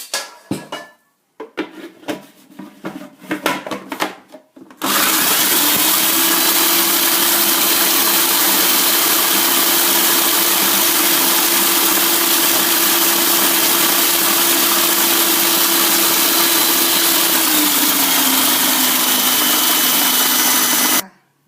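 A blender grinding toasted rice: a loud, steady motorized grinding whir runs continuously after a few seconds of clattering and rattling, its pitch dropping slightly near the end.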